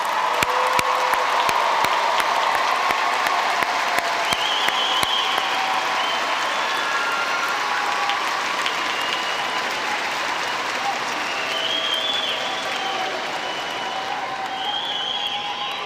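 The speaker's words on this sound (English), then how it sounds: "let's give one more round of applause for our 2025 graduates" A large commencement crowd applauds its 2025 graduates in a dense, sustained round of clapping that fills the hall and holds steady to the end.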